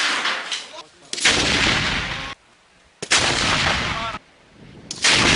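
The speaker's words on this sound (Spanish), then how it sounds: "Y lo hacen así, a cañonazos." Heavy booming artillery cannon blasts in two long bursts, each a loud broadband roar that rumbles on before cutting off, with short quiet gaps between.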